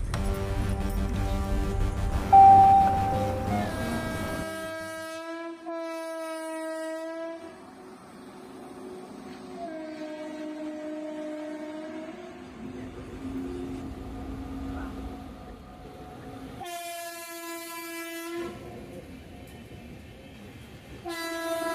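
A train horn sounds repeatedly in long sustained blasts, loud and close, over steady rail rumble at a station.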